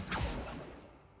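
A summoning spell cast in the Hogwarts Legacy video game: one short airy whoosh that swells quickly and trails away over about a second, heard alone.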